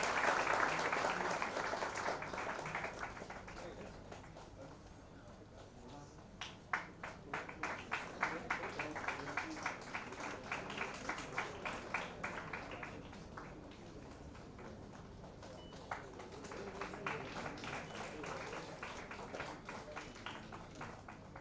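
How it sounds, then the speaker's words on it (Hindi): Audience applause at a live awards-style event, a crowd clapping in bursts that rise and fade over a steady murmur of voices and hall noise, moderately distant. "अब आप लोगों ने क्या किया कि किश्तों में तालियां बजाई"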